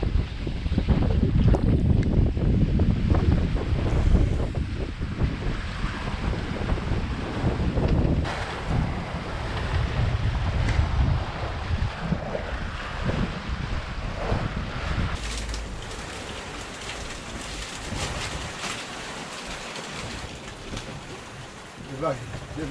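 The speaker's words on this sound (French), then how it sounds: "Les vagues étaient fortes, ça bombe." Strong wind and ocean waves roll past a sailboat on a long open-water passage to Mindelo, Cape Verde, with loud, steady buffeting on the microphone and water rushing against the hull, easing slightly toward the end.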